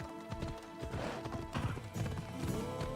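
Horse hooves clip-clop at a steady trot while a horse neighs, heard in the video game Assassin's Creed Odyssey, layered over in-game music and ambience at a fairly close, even level.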